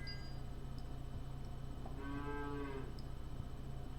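A cartoonish cow moo from the Super Auto Pets video game sounds once, a short mid-pitched call over a steady background music hum, with no talking.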